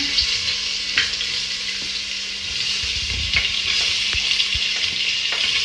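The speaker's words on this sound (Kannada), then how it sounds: "ನೋಡಿ ಈಗ ಈರುಳ್ಳಿನ ಹಾಕ್ತಾ ಇದ್ದಾರೆ" Onions frying in a pan for a chapathi veg roll, a steady close sizzle throughout with occasional stirring clicks and no talk.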